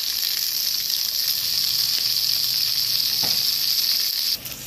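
Tomatoes sauté in hot cooking oil in a pan, giving a steady bright hiss of frying close by, with a faint stir partway through before the sizzle eases slightly at the end.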